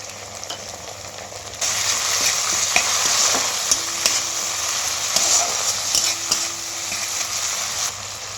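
Chilli paneer gravy thickened with cornflour boils and sizzles in a pan, a loud steady hiss that jumps up after a quieter start, with occasional stirring clinks and bubbling pops.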